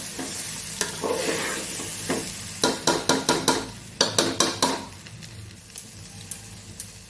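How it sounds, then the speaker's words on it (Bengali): Khichuri ingredients are sautéed in ghee in a pan with fresh potatoes and cauliflower, a spoon stirring and scraping in bursts of sharp clinks over a steady low sizzle, with no talking. "ভালো করে কষিয়ে নেবো ঘিটা দিয়েও।"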